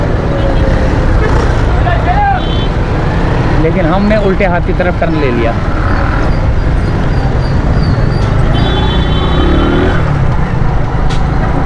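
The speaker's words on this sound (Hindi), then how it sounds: "यहाँ पर ट्रैफिक जाम" Dense road traffic noise in a jam near Gulshan-e-Iqbal, Karachi, with engines rumbling, horns and vehicle sounds running steadily and loudly throughout while someone talks over it.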